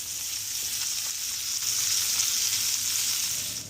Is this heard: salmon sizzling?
yes